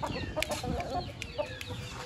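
Chickens cluck in a coop with chicks nearby, a scatter of short clucks and calls, close and moderately quiet, over a low background murmur.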